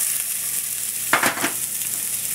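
Celery hits olive oil in a hot pan over medium-high heat, a sudden loud sizzle burst on top of a steady background hiss, with no talk.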